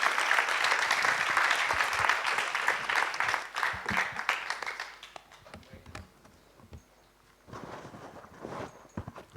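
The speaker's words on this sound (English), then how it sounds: "if we could all give a hand of applause there for Kurt Sombero" Applause from a conference audience for a presenter starts full and dense, thins out after about five seconds into scattered claps and footsteps, then briefly swells again.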